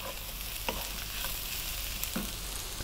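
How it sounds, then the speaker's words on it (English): Cut-up sausages fry with a steady, close sizzle in a pan while they are tossed, and the sizzle carries a few scraping stirs and clacks. No one speaks. "I'm just going to throw these around in the pan."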